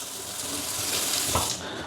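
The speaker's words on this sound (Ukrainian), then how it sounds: "Водичка біжить." Water runs steadily from a tap in a house in Yahotyn, Kyiv region, a continuous close hiss and splash with no talk.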